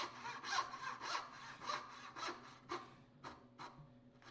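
A hand saw cuts wood down to a marked line with steady, rhythmic rasping strokes, about two per second, close and fairly faint, slowing and thinning toward the end.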